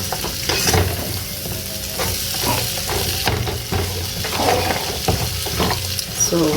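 Cooked chicken breast and spices stir-fried in a pan, a steady broadband sizzle with repeated scraping strokes and metallic clinks of the spatula against the pan, close and continuous.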